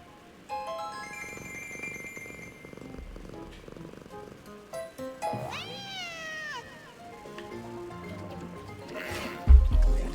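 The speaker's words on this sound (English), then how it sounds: "I hear a cat. I definitely hear a cat." A cat meows in a video game, one long, bending, drawn-out meow in the middle over quiet background music and effects, followed by a shorter call and a thump near the end.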